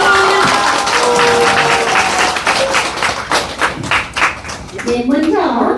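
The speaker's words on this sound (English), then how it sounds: "Let us offer a big round of applause of gratitude to God." Congregation at a church service clapping in a round of applause of gratitude, dense and fairly close, with a voice speaking over it and the clapping thinning out toward the end.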